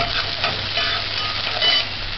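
Onions sauté in a hot pan, a steady bright sizzle with occasional bursts as they are stirred, close and continuous without any talking.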